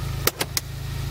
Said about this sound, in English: It's idling like different than it did before, like how it originally did before the problem.